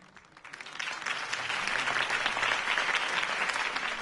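A crowd in the video game Batman: The Telltale Series bursts into applause that swells quickly and holds as a dense, steady clatter of clapping hands.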